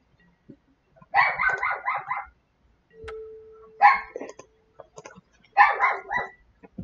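An agitated dog barks excitedly in three rapid, clustered volleys separated by brief pauses, loud and close, with a short tonal hum between the first two bursts.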